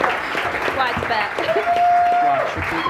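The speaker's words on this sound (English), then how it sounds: "And another round of applause for Galivor." Audience applause during a live tabletop role-playing game show, a broad clapping wash mixed with voices and a steady sustained tone partway through.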